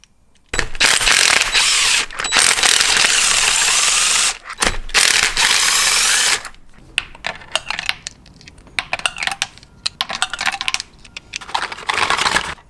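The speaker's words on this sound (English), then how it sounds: "I'm gonna make sure the motor turns over real quick." A Honda CBR1000RR engine being rebuilt after a wreck is turned over by hand, giving a close, loud mechanical ratcheting and clicking that runs in long bursts, pauses, then returns in choppier, irregular clatter.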